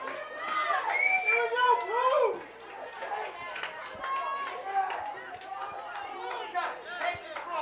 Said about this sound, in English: the crowd comes alive for Kearsarge